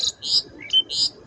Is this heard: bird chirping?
yes